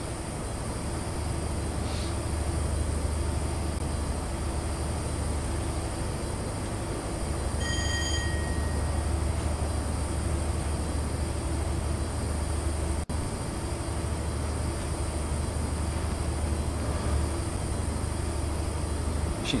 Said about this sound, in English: Mixed TTA train over there.